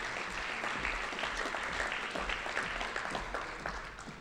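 Steady applause from an audience at a 2023 Fordham Gabelli School of Business award ceremony, honoring an award winner. The clapping is moderately distant and fairly quiet, a continuous even patter throughout with no talk.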